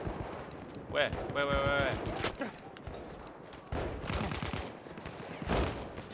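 Gunfire in a Battlefield 1 open beta match, scattered shots and sharp cracks under frequent talking, with a short burst near the end.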